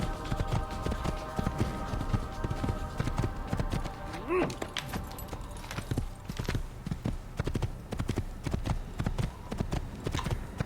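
A horse trots in Assassin's Creed while riding toward Jerusalem, its hooves clip-clopping in a steady, even rhythm throughout, with a short horse call near the middle.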